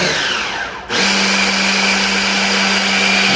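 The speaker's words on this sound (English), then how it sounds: "Thankful for the blender." A kitchen blender whirs loudly and steadily while blending spicy Cajun meatball ingredients into a paste, with a brief dip in pitch before the motor resumes its constant drone.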